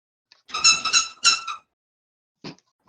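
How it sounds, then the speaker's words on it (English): A toy hammer squeaks in two rapid clusters of high, chirpy squeals, each a quick wobbling run of several squeaks, followed by a brief fainter squeak after a pause; close and clear with no talk over it. "I don't know if you guys heard the squeaking."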